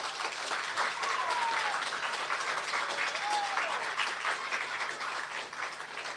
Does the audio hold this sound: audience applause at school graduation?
yes